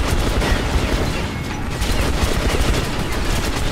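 Dense, rapid gunfire rattles through combat in Metro 2033 Redux, a loud, sustained burst of shots with booming impacts and mechanical clatter, no voices over it.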